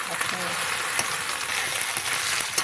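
Pointed gourd and potato pieces frying in a pan with ginger paste and green chilli, a steady crackling sizzle with small pops throughout.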